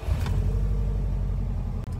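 A 2003 Subaru WRX wagon engine, warmed to about midway, turns over and settles into a steady, loud, close idle rumble with a pulsing low beat, a brief dip near the end.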